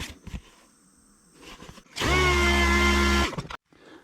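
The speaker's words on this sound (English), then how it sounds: "Just a little bit more sanding right there." A power sander whirs loudly on cracked ATV plastic for about a second and a half, starting abruptly and cutting off, with quiet handling noises before it.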